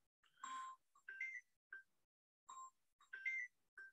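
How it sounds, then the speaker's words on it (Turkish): A telephone rings with an electronic melodic ringtone, two repeated bursts of bright chirping tones separated by a short pause, clear and alone in a quiet room. "Telefon çalıyor."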